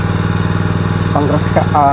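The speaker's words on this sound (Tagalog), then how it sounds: "Start na ulit tayo sa pag-grass cutter." A grass cutter engine runs steadily throughout at close range, a droning motor hum with a mild buzzy edge as the handheld cutter works a field near an ampalaya patch.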